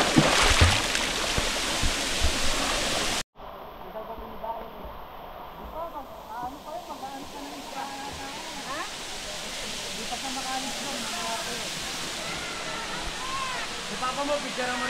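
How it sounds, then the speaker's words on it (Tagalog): Batlag Falls roars as a constant broadband rush of falling water, with voices audible at moments over the steady flow. "Batlag Falls."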